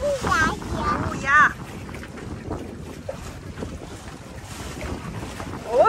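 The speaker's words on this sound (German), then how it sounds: "Oh, wir drehen, Justus, wir drehen wieder aufs offene Meer." Catamaran sailing on open sea off Thailand, with steady wind buffeting the microphone and a broad wash of water under excited voices talking throughout.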